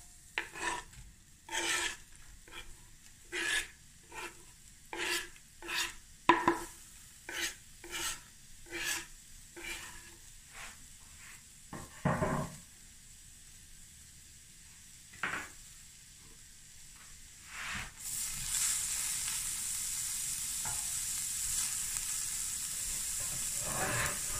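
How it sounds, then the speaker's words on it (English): Two chopped medium onions go into a hot pan for chicken curry: a run of rhythmic scraping strokes comes first, then a sudden steady sizzle of frying that fills the last several seconds, with no talking. "Now we're just going to fry the onions"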